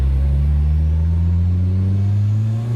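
Nissan S13 with a newly fitted turbo, its engine holding a steady, loud, low rumble of revs close by with no pause, no one speaking over it.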